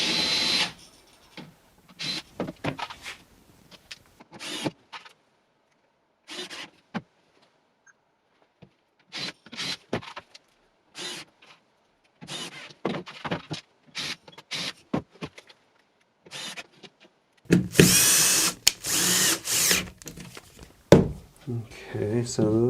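Power drill driving screws through a piano hinge into plywood in short separate bursts with pauses, close up, followed near the end by a longer louder run.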